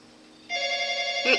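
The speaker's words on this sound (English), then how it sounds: "Phone call." A telephone rings with a steady electronic tone that starts partway in and holds at moderate loudness, ending with a brief louder burst.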